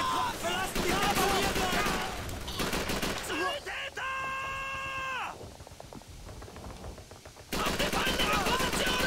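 Bursts of automatic gunfire and shots ring out in Call of Duty 3, loud and rapid, pausing for a sustained tonal game effect midway before the firing resumes.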